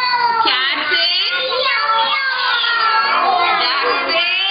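Many overlapping cats meow and yowl continuously, loud and close, a dense chorus of wavering cries with no pause.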